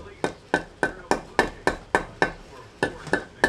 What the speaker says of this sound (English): real careful doing this with a hammer